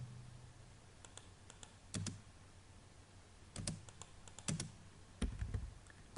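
AutoCAD commands typed on a computer keyboard: sparse, quiet key clicks in small clusters with a few firmer taps, close and faint against a soft background hiss.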